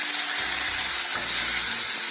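Tomatoes and green chilies hit hot ghee with cumin over a low flame, giving a steady, close, loud sizzle and crackle that runs through the whole moment with no talking.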